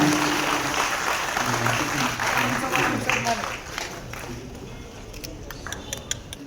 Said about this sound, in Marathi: जोरदार टाळ्या वाजून त्यांचं अभिनंदन या निमित्ताने करावं